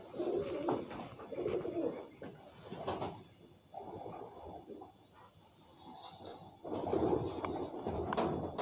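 Pigeons coo in repeated low, throaty bursts close by in a loft of fancy pigeons, including golden males, with soft rustles and a knock between the calls.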